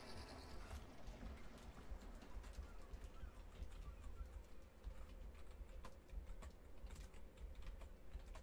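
Computer keyboard typing during a Planet Coaster game stream, a steady busy clatter of keys sitting under continuous background sound with bird-like coos mixed in.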